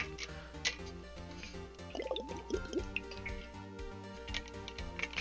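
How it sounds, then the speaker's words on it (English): Water dripping as a sound effect in Phoenix Wright: Ace Attorney, with soft, irregular drips and small liquid plinks layered over steady background music, fairly quiet. "Also, I like the water noises.mp3."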